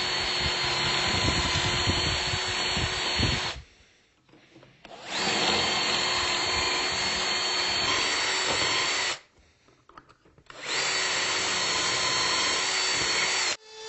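A Bosch power drill bores dowel holes into a cabinet side in three long, loud, steady bursts separated by short pauses, with no talking.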